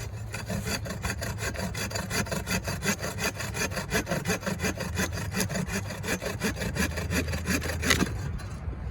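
A hand saw cuts through a hardwood branch outdoors, a steady fast rhythm of rasping strokes, close and loud, ending in a final sharp stroke near the end.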